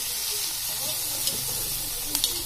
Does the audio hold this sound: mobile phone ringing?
no